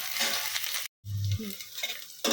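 Onions fry in a pan with a soft, close sizzle and crackle, broken by a brief silence and the scrape of stirring, with no talking.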